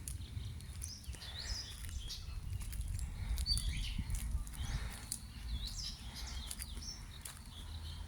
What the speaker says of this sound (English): There's nothing better than the sounds of birds chirping in the morning